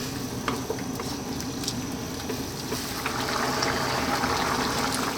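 A yellow pea vegetable stew with tomatoes simmers and sizzles in a pot, a continuous bubbling hiss with small pops and occasional stirring clinks, steady with no voices.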